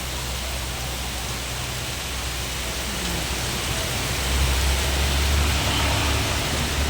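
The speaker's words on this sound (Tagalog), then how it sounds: "Napakalakas ng ulan guys." Heavy rain pours onto a street in Paco, Manila, as a dense, constant hiss that swells slightly louder toward the end, with no voices.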